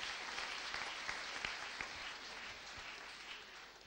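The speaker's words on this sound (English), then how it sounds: "Shall we give you a clap of praise to Jesus Christ?" Applause from a church congregation giving a clap of praise, steady dense clapping filling the room with a few sharper individual claps standing out, moderately loud and continuous throughout.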